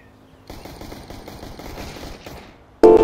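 A loud burst of automatic gunfire rattles in quick succession during a CS:GO competitive match, ending with a sharp, close final blast.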